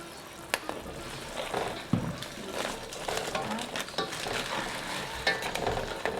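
Diluted curry paste for a South African crab curry hits a hot pan and sizzles steadily, with scraping stirs and clicks over a continuous close frying hiss.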